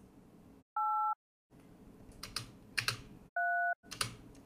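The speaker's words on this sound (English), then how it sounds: "Sounds like a phone dial right here." Two DTMF telephone dial tones generated in Audacity, each a steady dual-pitched beep lasting under half a second, alternating with stretches of soft keyboard typing and clicks.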